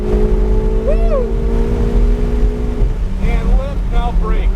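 Supercar pulling hard at full power on a race track, a steady loud engine drone with rising whine overlaid by wind rush, while an instructor speaks over it.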